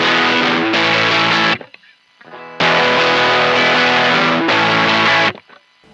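An Aria ADT-1 distortion pedal with the gain turned fully up drives a loud, saturated electric guitar through two long sustained chord bursts, each cut off abruptly into brief near-silence with faint string noise.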